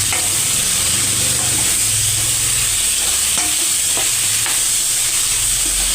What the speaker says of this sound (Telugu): ఒకసారి అంతా మిక్స్ చేసుకుందాం.